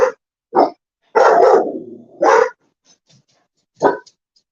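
A dog barks close by: a few sharp barks, one drawn-out growling bark, then a final bark after a short pause.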